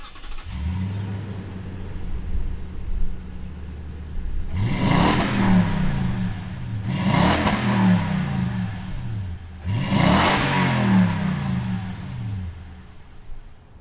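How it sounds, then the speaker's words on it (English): A 2020 Toyota Tundra 1794 Edition with a 350 engine idles with a steady low rumble, then revs hard three times. Each rev is loud and close and falls back to idle. "fire up this 350 and see what it sounds like"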